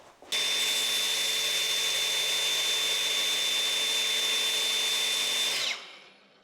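A power grinder spins up on 308 stainless steel rod to throw sparks, a steady loud high whine with a bright tonal ring lasting about five seconds before winding down.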